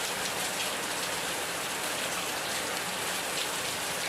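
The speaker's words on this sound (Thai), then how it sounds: "ฝนตกนะครับฝนตกวันนี้" Steady rain falls behind a house in Thailand, a dense, even hiss of drops on surfaces that continues without pause and with no voices.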